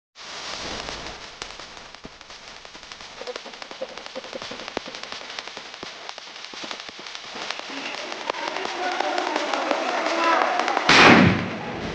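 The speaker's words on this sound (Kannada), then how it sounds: "ಪಟಾಕಿ ಹೊಡೆಯೋಣ ಬನ್ನಿ" Firecrackers burst during Ganesha festival celebrations as a dense crackling stream of many small pops, building steadily toward the end where a louder close burst hisses and flares.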